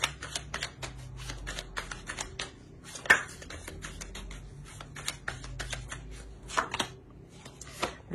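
Tarot cards are shuffled and flicked by hand, producing dense bursts of crisp riffling clicks and papery snaps that come in uneven clusters, close and fairly quiet, with no speech.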